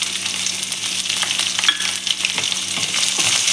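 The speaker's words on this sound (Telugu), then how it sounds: "మనం ఇలాగ మిక్స్ చేసుకుంటూ ఫ్రై చేసేసుకున్నాం" Dantu kura stems with green chillies frying and being stirred in a pan, a dense continuous sizzle with intermittent scraping and tapping of the spoon, close and fairly loud, no talking.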